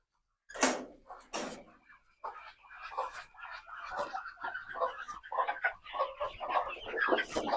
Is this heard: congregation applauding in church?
no